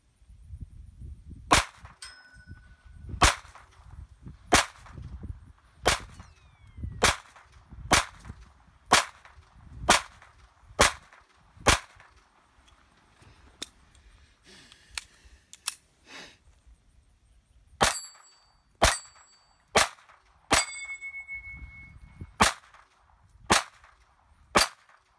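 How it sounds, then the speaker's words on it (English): Smith & Wesson M&P 22 Compact pistol fired ten times at a steel plate about seven yards away on an outdoor range, each sharp crack followed by a ringing metallic hit, shots spaced irregularly with a pause midway. "M&P 22 Compact, 10 rounds, left plate. About 7 yards."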